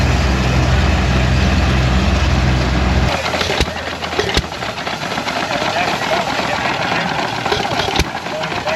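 A vintage engine at a harvest festival runs with a steady low drone that gives way to an uneven, misfiring chug broken by occasional pops, with outdoor crowd noise and someone talking nearby.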